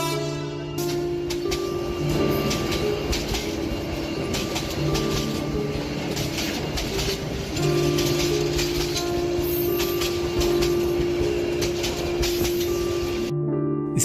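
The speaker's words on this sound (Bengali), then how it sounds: "হঠাৎ ট্রেনের পোপো শব্দে আমি উঠে দাঁড়ালাম।" In a horror cartoon, a train sounds its horn in long sustained tones while rumbling and clattering into an empty station, with the steady rolling noise continuing for the whole stretch.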